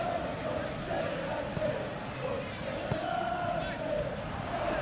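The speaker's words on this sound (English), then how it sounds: "Now the crowd are demanding that they just finish this off." Steady stadium crowd roar from a football video game, a match between Brighton and Manchester United, a constant broad wash of massed voices with swelling chants running under commentary throughout.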